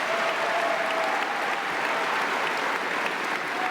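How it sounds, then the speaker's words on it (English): A large crowd at a law enforcement competition closing show applauds all the participating teams, loud, dense and even clapping that fills the whole stretch without pause. "Let's give a big round of applause to every team that participated in the competitions."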